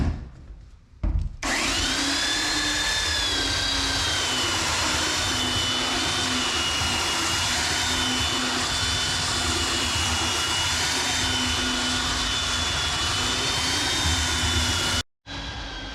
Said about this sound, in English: look at the belt sander